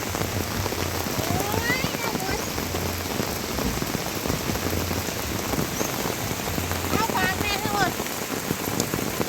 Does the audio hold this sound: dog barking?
no